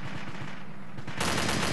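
Automatic rifle fire in the military shooter Arma 2, rapid bursts of rounds crackling close by, then a denser, louder barrage of continuous gunfire in the last half second.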